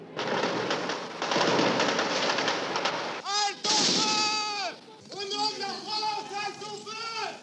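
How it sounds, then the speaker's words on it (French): Archive news footage of the shooting on rue d'Isly carries crackling bursts of gunfire, dense at first and then sporadic, mixed with voices. "Soudain, une fusillade éclate."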